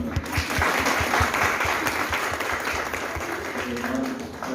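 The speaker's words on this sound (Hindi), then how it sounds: "आप सब लोग अपने लिए जोरदार एक बार तालियां बजा सकते हैं" An audience at an Acharya family gathering applauds in a steady, dense wash of clapping that holds for several seconds at moderate volume, with no clear talk over it.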